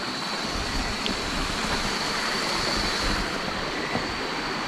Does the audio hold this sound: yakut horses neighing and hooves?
no